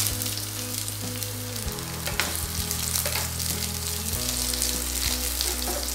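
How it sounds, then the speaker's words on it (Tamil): Capsicum frying in hot sesame oil in a pan gives a loud, close, steady sizzle with a few light stirring clicks, and no talk over it. "எண்ணெய் நல்லா சூடாயிடுச்சு இப்போ நம்ம கட் பண்ணி வச்சிருந்த கொடமிளகாய் சேர்த்துக்கலாம்"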